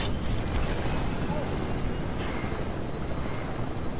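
A helicopter in the Fortnite video game gives off a steady, loud rotor and engine drone with broadband rumble throughout, close and continuous.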